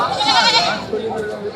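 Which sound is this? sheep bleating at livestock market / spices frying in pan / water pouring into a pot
sheep bleating at livestock market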